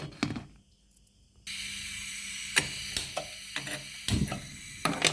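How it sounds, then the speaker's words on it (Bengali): A gas stove is lit with a few sharp clicking ratchet snaps from the igniter, followed by a low steady hiss of the flame, quiet and close. "চুলায় আগুন দিয়ে নিলাম"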